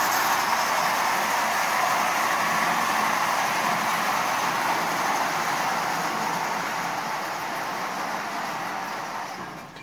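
A small Marx tin litho toy train pulled by a 6000 locomotive runs steadily on track, producing a constant whirring, rattling hiss that stays even throughout and fades slightly at the end.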